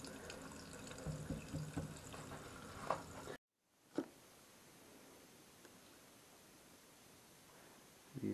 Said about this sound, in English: It's just all the water in the line is draining back.